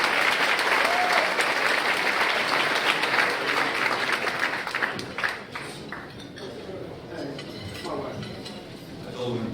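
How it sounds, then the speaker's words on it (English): A crowd at an awards ceremony claps loudly at first, then the applause thins and tapers into scattered, softer clapping with faint murmuring in the background. "Clap, people, clap, come on, hold it tight."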